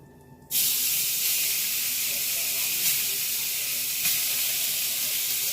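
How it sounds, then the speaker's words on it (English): Beef hits a hot, smoking pan and sets off a loud, steady sizzle that starts abruptly and hisses on without a break, with a couple of faint clinks. "The pan looks already hot. It's already smoking. So I'm going to go ahead and throw it in."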